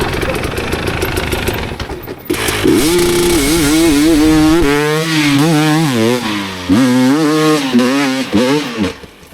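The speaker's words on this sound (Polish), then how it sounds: "Zaczynamy popisy na motorach!" Enduro motorcycles revving hard during stunts, with rising and falling engine pitch and repeated throttle blips, loud and close, with voices briefly underneath.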